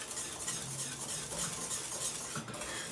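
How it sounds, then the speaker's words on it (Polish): A spoon scrapes and swirls steadily as pudding is stirred in a pot over a low gas flame, a continuous close scraping sound with a soft bubbling undertone and no voices. "na malutki gaz dałam i mieszam, żeby mi się nie przypaliło"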